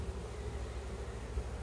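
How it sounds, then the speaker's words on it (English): A package of honey bees hums with a faint, steady, low buzz while being installed into a small nuc box, heard close and quiet with no talk. "Put the bees into this little nuke box."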